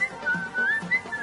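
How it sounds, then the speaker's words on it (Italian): One person whistles a wavering, sliding tune in short phrases with brief gaps, close and clear, with faint background noise and no speech. "Non fischiare!"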